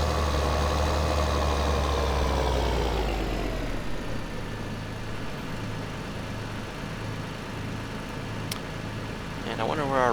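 A tractor in Farming Simulator 2013 hauls a trailer as it fills. The engine drones steadily with a deep rumble that eases after a few seconds, and a faint voice talks over it.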